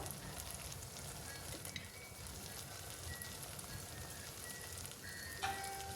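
Brinjal frying in a pan with turmeric and chilli powder while being stirred, a steady close broadband sizzle with faint scraping throughout and no talk.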